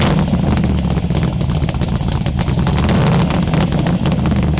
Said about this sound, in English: It's called chambered exhaust. It's really loud